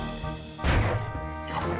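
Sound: super slam attack smash in the video game Crash Bandicoot 3 Warped

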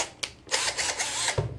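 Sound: WAP 21V impact drill driver unscrewing a screw

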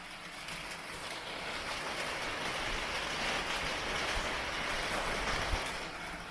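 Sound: rain pattering on a carport roof

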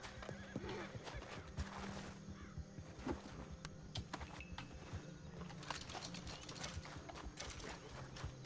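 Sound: horse neighing in a video game

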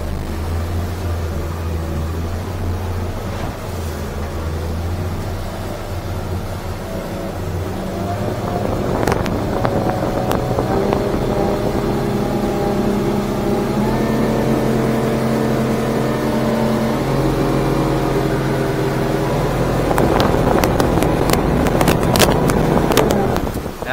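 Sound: Stabicraft 2250 motorboat turning in a tight circle

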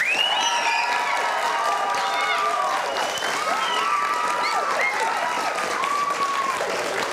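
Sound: audience applause for contest winners

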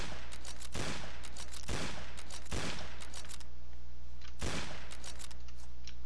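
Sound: gunfire from a shooter video game

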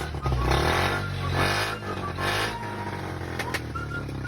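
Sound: motorcycle engine running

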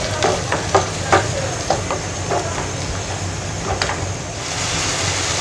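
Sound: ground tomatoes frying with onions

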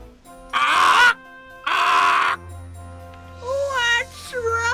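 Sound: parrot squawking in cartoon

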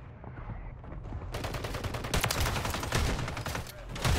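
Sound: gunfire in Call of Duty Warzone Rebirth Island video game

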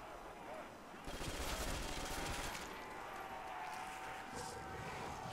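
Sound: gunfire in a zombies video game

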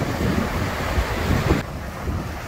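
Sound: rushing mountain river near Ala Archa, Kyrgyzstan

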